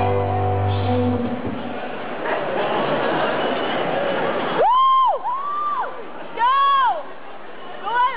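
An audience at a college cultural performance night yells and cheers loudly for a K-pop group, a dense roar of crowd noise that gives way to high, sustained shrieks and whoops.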